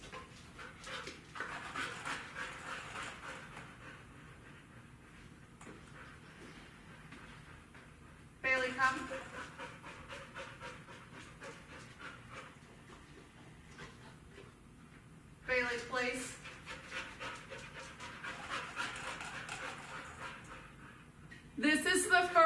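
A golden retriever at a board-and-train session pants steadily and close throughout, with bursts of louder rustling movement and a person speaking at times.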